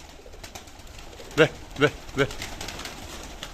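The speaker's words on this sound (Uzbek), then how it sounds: "Mana kaptar." Pigeons coo three times in quick succession, close and clear, over a low background hush, with a brief spoken word nearby.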